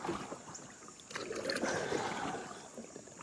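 A tri-hull, catamaran-style kayak being paddled on open water in picking-up wind, with soft splashing paddle strokes and water wash under faint wind noise, close and quiet.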